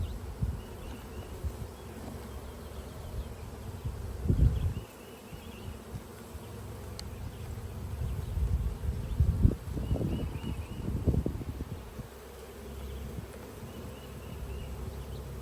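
Steady honey bee buzzing hums throughout, with several louder swells of droning as bees pass close, over a low outdoor background at beehive nucs during a summer nectar flow.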